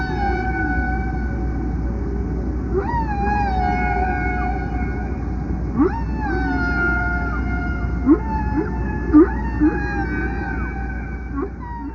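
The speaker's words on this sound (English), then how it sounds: "there's the famous songs of the humpback whale" Humpback whale song in the ocean: long, sweeping tonal moans and rising whoops repeating in phrases every few seconds over a steady low underwater rumble, with a few brief louder upsweeps near the end.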